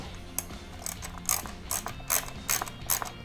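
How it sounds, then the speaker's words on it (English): A ratchet wrench works a 10 mm bolt beneath the air filter housing of a Kawasaki Vulcan 750 motorcycle, clicking in short close bursts of rapid pawl ticks with brief pauses between strokes. "So I'm taking out this bolt right here, right underneath the air filter housing."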